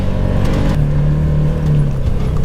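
A 2021 Can-Am Commander XT Extreme UTV engine running at a steady, loud, close drone, with a low rumble that swells slightly and holds for the whole stretch, no voices.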